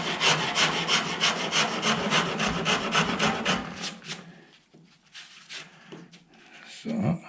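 A coarse rasp files a wooden guitar neck in rapid, steady back-and-forth strokes, loud and close for about four seconds, then a few scattered scrapes and knocks follow.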